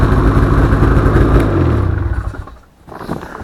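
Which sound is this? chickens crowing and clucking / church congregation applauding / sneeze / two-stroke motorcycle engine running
two-stroke motorcycle engine running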